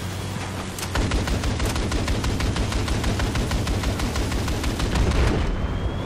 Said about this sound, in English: Landing a full gun burst!